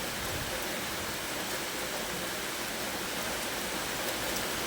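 Heavy rain in Milanpalli pours steadily, drains full and overflowing onto the street, a dense unbroken hiss of falling water throughout with no voices.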